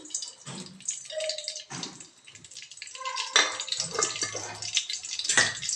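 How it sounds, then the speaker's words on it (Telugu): Oil and a little ghee are poured into a pan for a little millet dish, making short liquid pours and splashes close by, separated by brief pauses and light taps, with no voices. "ఇప్పుడు కొంచెం ఆయిల్ వేసుకుందాం మనం కొద్దిగా ఆయిల్ అలాగే కొంచెం నెయ్యి వేసుకుందాం"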